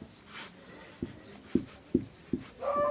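A pen writing out a maths solution for an arithmetic progression problem: soft scratching strokes with a few distinct taps in an uneven rhythm, close and quiet, with no talking.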